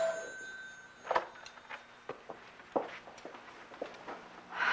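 A telephone rings indoors, several short, bright bursts spaced irregularly over a quiet room with a few soft knocks and steps in between, fairly faint overall.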